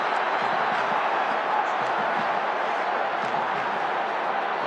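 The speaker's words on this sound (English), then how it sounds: "Just the crowd. I mean, the support for Adelaide." A dense crowd of Adelaide Crows supporters roars at the 2017 AFL grand final against Richmond, a steady wash of cheering and chanting with faint scattered claps, broad and unbroken throughout.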